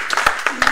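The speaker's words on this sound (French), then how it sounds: "Ça s'applaudit." A few scattered hand claps from a small meeting audience, sharp and close, with speech mixed in around them.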